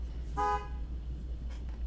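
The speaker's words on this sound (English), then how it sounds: "next door neighbor honked" A neighbor's car horn honks once from next door, a short clear toot at moderate distance over a steady low hum, followed by quiet room noise.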